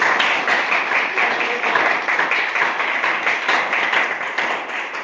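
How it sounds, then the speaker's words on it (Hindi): A crowd claps continuously in dense, overlapping applause for several seconds, close and fairly loud. "ताली बजा दीजिए मेरे।"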